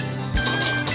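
Cooked rice being moved into a rice cooker pot, with a single clear clink and scrape of metal utensils against the pot partway through, set over a steady low background hum.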